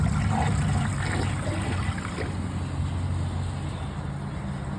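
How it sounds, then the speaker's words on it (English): Water drains from the tank of a 2005 comfort height Kohler Highline toilet with a steady close rushing and trickling that gradually softens, with no talk over it. "let's empty all the water in the tank"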